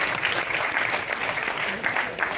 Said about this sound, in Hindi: इसलिए ताली बजाई जा सकती है।